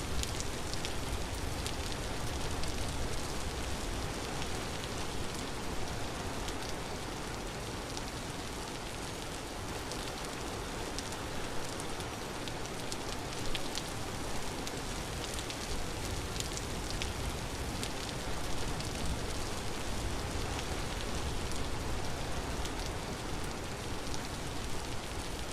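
Steady rainfall in the video game Vintage Story, a dense, even hiss of drops pattering on surfaces that runs unbroken and fairly loud throughout, with no talking.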